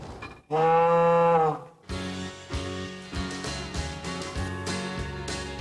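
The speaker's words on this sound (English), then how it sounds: "give me a honk and I'll moo back at you." A Jeep horn sounding a long, loud cow-like moo, followed by lively stage music from a Branson, Missouri variety show with a steady rhythmic beat.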